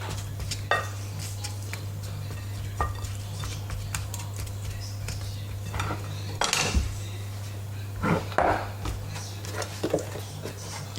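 A wooden spatula mixes sliced potatoes for a garlicky, cheese-free gratin dauphinois, giving sporadic clinks and scrapes against the dish over a low steady hum.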